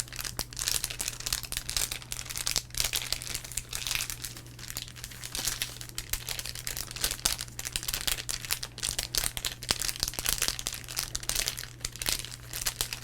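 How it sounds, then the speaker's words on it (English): Topps baseball card pack wrapper being crinkled up close, a steady dense crackling that runs without pause over a low constant hum. "That's good, crinkle."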